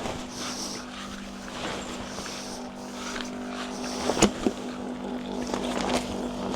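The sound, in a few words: air pump inflating an inflatable tent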